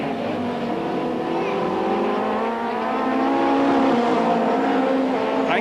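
Touring race cars from the 1990 British Touring Car Championship, including a Ford Sierra and a Vauxhall, roar past on track with a steady, loud engine drone that swells slightly as they pass.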